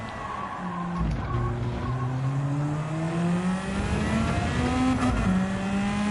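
A race car engine in Gran Turismo 7 revs upward through several gears, its pitch climbing, dropping at each shift and climbing again, loud and continuous with faint tire noise and no talk.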